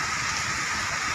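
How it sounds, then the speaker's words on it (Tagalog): Heavy rain pouring down over Makati during a thunderstorm, a dense, steady hiss with no breaks, loud and close for the whole stretch. "ang lakas ng ulan ngayon"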